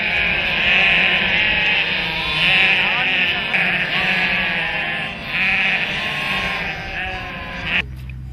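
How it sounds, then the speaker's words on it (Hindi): A flock of sheep along the Kailash pilgrimage route bleats in overlapping, wavering calls, several animals close by and loud, with brief pauses between bursts. "रास्ते में दिखने वाला भेड़ का झुंड काफी मनमोहक होता है।"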